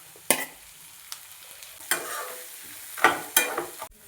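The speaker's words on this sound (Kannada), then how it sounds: "ಇವಾಗ ಟೊಮೆಟೊ ಹಾಕ್ಕೋತಾ ಇದ್ದೀನಿ ಫ್ರೆಂಡ್ಸ್" Tomatoes tipped into a hot frying pan with turmeric and greens and stirred, giving sharp bursts of sizzle with scraping stir strokes between them, close and alone.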